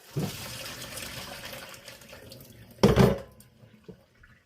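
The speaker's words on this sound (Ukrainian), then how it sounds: "Отже, відкидаю на туршлак." Boiled vegetables are tipped into a colander in a home kitchen, giving a short, loud splash of draining water partway through, with a softer running trickle and faint kitchen clatter around it.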